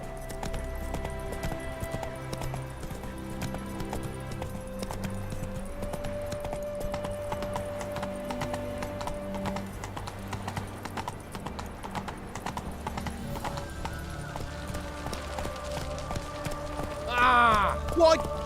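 Horse galloping in The Witcher 3, a rhythmic clip-clop of hooves running steadily under game music, with a brief louder burst near the end.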